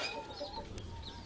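Chickens on a small poultry farm flock of about a hundred birds cluck and chirp faintly over steady background noise, with scattered calls overlapping and no voices.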